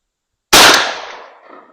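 A single loud report from a 28 gauge shotgun firing a handloaded shell of three 5/0 buckshot pellets at an outdoor range, a sharp close blast with a short fading echo.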